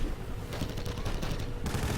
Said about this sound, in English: that's a Crusader coaxial firing on it